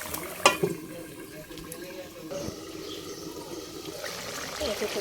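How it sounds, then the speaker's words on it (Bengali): Fish curry with teasel gourd bubbles steadily in a pot, a constant close hiss of boiling liquid with a sharp clatter near the start. "সুন্দর করে বলক আসুক, তারপরে ধনে পাতা দিয়ে নামিয়ে ফেলবো।"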